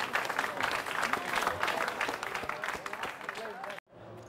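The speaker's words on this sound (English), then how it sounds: "Let's give him a round of applause, please" Applause and crowd noise fill a poker final table room at a 2009 high-roller event in Macau as a player is eliminated in fifth place, steady clapping with voices mixed in, cutting off abruptly near the end.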